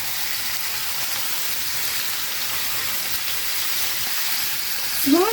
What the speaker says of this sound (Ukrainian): смажимо на такому не дуже великому вогні